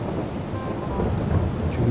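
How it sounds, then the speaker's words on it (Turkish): Heavy rain pours steadily in the video game Farming Simulator 22, a dense, loud, close wash of noise with a low rumble, no voices. "Yağmur baya baya güzel yağıyor"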